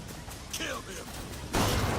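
Gunfire in the video game Bioshock Infinite: a loud burst of shots breaks in near the end after shouting voices, with a sharp crack earlier under the yelling.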